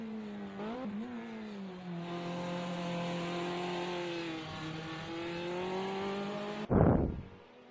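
A race car engine in a winter sim racing series video game drones steadily at high revs with a slowly shifting pitch, loud and close, then ends in a sharp, brief roaring burst near the end.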